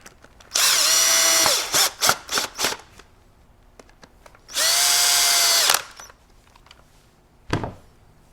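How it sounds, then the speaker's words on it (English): A power drill on low torque whirs in two long runs, pitch rising as screws drive into a Benelli Ethos shotgun stock, with short trigger bursts between and quiet pauses. "I'm going to use a drill to put them in"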